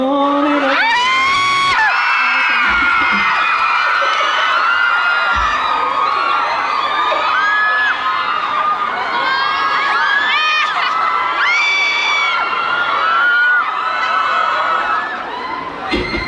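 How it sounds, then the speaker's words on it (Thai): A large crowd screams and cheers continuously, shrill high-pitched shrieks and whoops layered together, loud and close throughout. "เสียงกรี๊ดมาจากข้างหลังเหมือนคนเหยียบเท้ายังไงก็ไม่รู้เลย"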